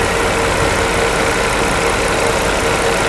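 A car engine idles steadily at operating temperature in a workshop during a cooling-system check, a dense, even rumble with no talk over it.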